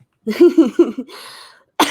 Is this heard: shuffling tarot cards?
no